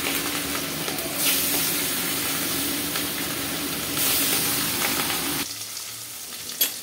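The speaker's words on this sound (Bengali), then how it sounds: "আমি একটা একটা করে মাছ ভেজে নেব।" Pieces of hilsa fish frying in hot oil in a wok, a loud, steady sizzle with bursts of crackle, then abruptly dropping to a quieter hiss near the end.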